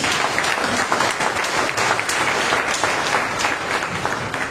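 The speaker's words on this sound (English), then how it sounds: "Let us give a mighty clap to Jesus." A congregation claps together at a Monday prayer meeting, dense loud applause filling the room and holding steady throughout, with no voices over it.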